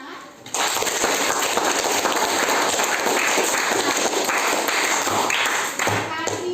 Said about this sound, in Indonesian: Sekali lagi, Ibu minta supaya beri tepuk tangan.